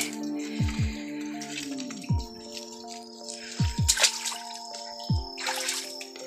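Spring water dripping and trickling at a natural spring source, with a series of distinct, close drops falling at irregular intervals over a soft background flow, no voices.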